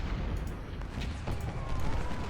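Cannon fire from a Civil War battle at Chancellorsville in the Ultimate General: Civil War video game rumbles as distant, muffled booms over a constant low roar of battle.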